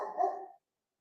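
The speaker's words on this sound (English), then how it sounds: "Sorry, my dogs." A dog barks indoors during a home conversation, one short, fairly close bark that cuts off abruptly, followed by silence.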